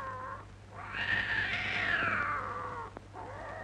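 Cats caterwaul in a 1937 film, a drawn-out, rising and falling yowl that swells loud in the middle, with a second cat joining faintly at the start and end.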